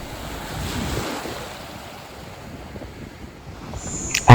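Loud surf and gusting wind at a sunny beach, with waves rolling and washing steadily throughout and wind buffeting the microphone, no voices, ending in a sharp close thump.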